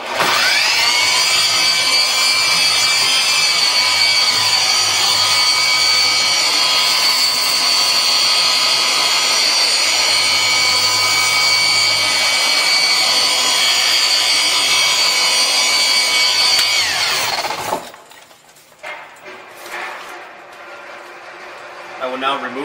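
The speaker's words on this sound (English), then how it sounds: "This machine will allow you to finish down and not get swirl marks on dark colored vehicles." KAS polishing machine running on dark car paint, a loud, steady high whine close by for about 18 seconds before it cuts off, leaving quiet handling noises.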